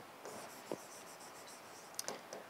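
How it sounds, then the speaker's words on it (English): A pen writes an answer on paper, quiet scratchy strokes close by with a few brief taps and pauses between them. "we are going to write the answer here"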